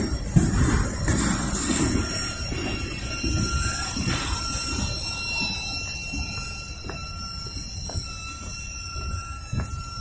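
Norfolk Southern freight train rolls past at Kenny, Lynchburg, Virginia, wheels squealing in sharp repeated screeches over steady rumbling, loud and close, with no voices.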